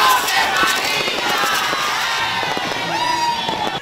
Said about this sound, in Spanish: Católicos y no católicos salen a cantar a la Virgen María con el grito inicial